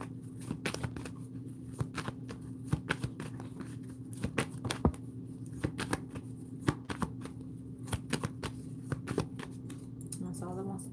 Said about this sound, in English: I'm going to pull these last cards here.